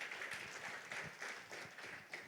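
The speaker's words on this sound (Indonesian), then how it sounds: "Tepuk tangan yang kencang buat Tuhan kita" Congregation applauding God during a church service, a dense run of clapping with regular surges, close and steady, though recorded quite faint.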